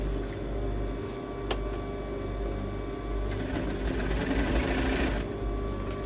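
A sewing machine runs steadily as it stitches a 1 cm seam on the lining of a sleeveless dress, giving a continuous close mechanical whir that picks up speed toward the end.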